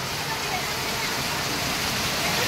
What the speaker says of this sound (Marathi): बघा इकडे बघा पाऊस बघा.